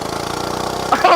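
A Hoverhearts gas mini bike engine runs steadily up close with a rough, pulsing drone, and a voice cuts in near the end.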